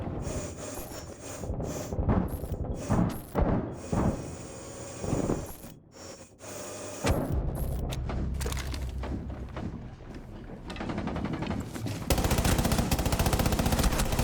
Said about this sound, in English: thank god I had an LMG